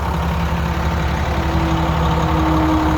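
A Cummins-powered 2005 International 5600i 6x6 crane truck idles steadily, its engine a close, constant low drone with a sustained tonal hum, heard alone with no talk.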